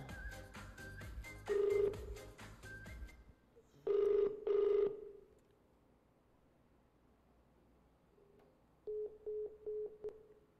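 A phone rings in short electronic bursts, two loud pairs early on and a softer run of quick chirps near the end, with a faint background hiss.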